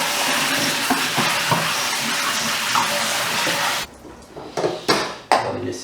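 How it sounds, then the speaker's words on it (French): Peeled asparagus is rinsed under cold running water. A steady close rush of water runs for several seconds, then gives way to intermittent splashes and light clattering as the spears are handled. "Je vais les rincer à l'eau."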